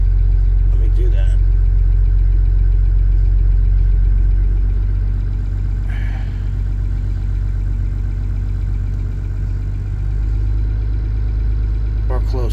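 A boat engine runs steadily at about 1000 RPM, a deep, even low rumble holding constant throughout, close and fairly loud, while someone talks over it.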